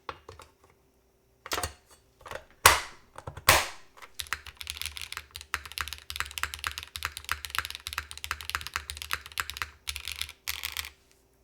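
Mechanical keyboard with a misaligned top case being typed on: a few isolated loud key strikes, then a quick continuous run of clicky keystrokes, close and without talk.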